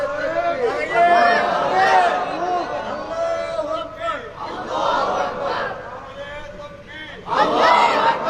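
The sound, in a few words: audience chanting the takbir in response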